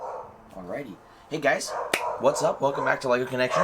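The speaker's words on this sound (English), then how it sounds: "Sorry for the barking in the background." Someone talks in an upbeat greeting while a dog barks somewhere in the background, a few short yips tucked under the voice.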